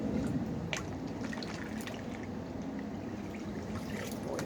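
Water sloshes and trickles in a gold pan during fast speed panning, a continuous close wash of dribbling and dripping at moderate level.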